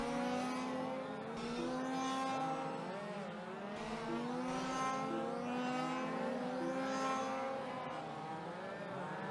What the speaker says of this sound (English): Those two driving the red and blue minis down the front straightaway